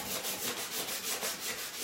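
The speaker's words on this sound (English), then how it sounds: "So when I'm sanding, I'm kind of going flat across to make sure I don't have anything sticking up." Hand sanding of a small wooden mini ladder, a steady loud rhythmic scratching as sandpaper is rubbed back and forth across the wood, close up with no talking.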